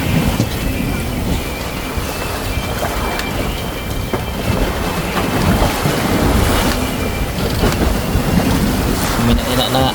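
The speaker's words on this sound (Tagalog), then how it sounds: "Sa lalaki ng alon." Large ocean waves rocking a fishing boat out at sea in the West Philippine Sea during a squall, with constant surging water, wind buffeting the microphone and faint voices underneath.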